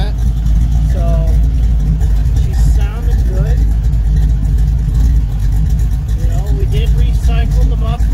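Old 1969 car engine idling and running steadily, a loud continuous low rumble throughout with faint voices in the background.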